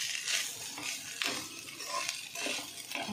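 Spices and garam masala are stirred into chicken fried rice in a pan, with repeated scraping strokes, soft clinks and a faint background sizzle at moderate, close-up volume.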